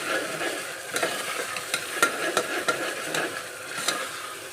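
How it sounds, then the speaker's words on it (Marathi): Onion and tomato sautéing with salt in a pan for vegetable pulao: a steady close sizzle with repeated sharp scrapes of a spoon stirring through the mix, no voices. "सर्व मीठ घालून घ्यायचं आहे आणि छान परतून घ्यायचं आहे।"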